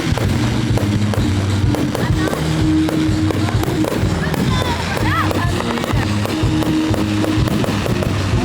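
A Fourth of July fireworks show in Collingswood bursts with rapid loud booms and crackling at close range, while people talk and call out over the steady barrage.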